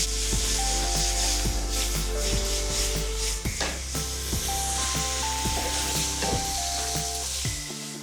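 Livers and kidneys searing hard in a hot pan, a loud continuous sizzle and spit with occasional scrapes and knocks of utensils, alone with no voices.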